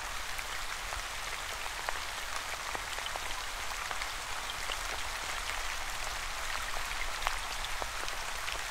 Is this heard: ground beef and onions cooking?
no